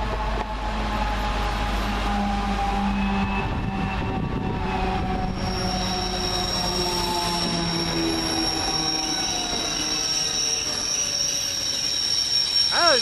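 Class 70 diesel locomotive 70016, a freight move on the line near Warrington, rumbling past loud and close with squealing wheels and a strained, unhealthy-sounding engine note, no speech.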